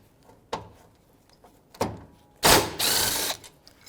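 Ratchet wrench with a 10mm socket working on the battery hold-down of a 2013-2018 Toyota RAV4, with a few sharp clicks and knocks, then a loud rasping ratchet burst lasting about a second, close up.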